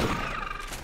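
A shotgun blast rings out in the Aliens: Dark Descent video game, one loud, dense burst of gunfire that fades over under a second.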